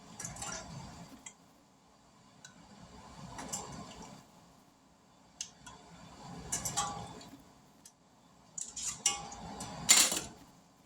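Metal canning jar lids for home-canned tomato sauce being picked up and handled, heard as faint, sparse clinks and light metallic taps in a quiet kitchen, ending with a brighter clatter near the end.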